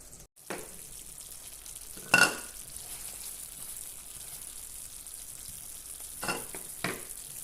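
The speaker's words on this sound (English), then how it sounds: "So then let that cook for about 5 to 10 minutes." Tempeh cooking in barbecue sauce in a pan gives a soft, steady sizzle, close but fairly quiet, with a few brief scrapes or stirs standing out and no talk.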